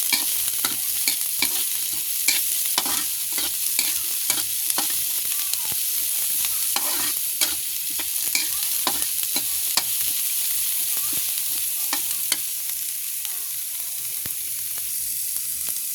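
Ingredients sizzling in a frying pan while being stirred, a constant bright hiss broken by repeated scraping clicks of the utensil against the pan.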